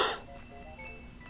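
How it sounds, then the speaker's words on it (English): A single short, fairly loud cough from someone sick with allergies, heard right at the start, followed by quiet room tone with faint background game music. "sorry I coughed there."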